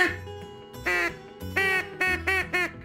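A duck call is blown harder in a run of five short, nasal quacks that come faster toward the end. The sound is close and loud over a quiet background.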